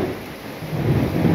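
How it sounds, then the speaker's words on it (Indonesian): Steady rain falls with a continuous broadband hiss and low rumble, swelling slightly louder toward the end; no voices. "karena hujan"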